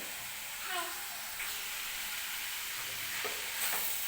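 Shredded cabbage with soaked lentils frying in hot oil in a home kitchen, giving a steady soft sizzle and hiss with a few faint stirring scrapes, fairly quiet and close, with no speech.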